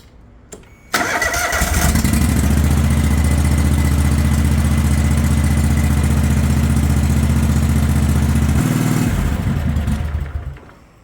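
A lawn mower engine with its clutch removed is cranked and catches, then runs loud and steady at close range for several seconds before cutting off. There is no talk.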